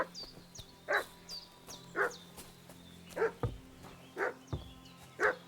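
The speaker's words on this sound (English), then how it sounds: "What's that dog making such a fuss about?" A dog in Kingdom Come Deliverance 2 barks repeatedly at a steady rhythm, about one bark per second, faint and somewhat distant against quiet game ambience.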